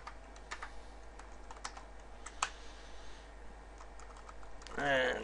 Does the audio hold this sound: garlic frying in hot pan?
no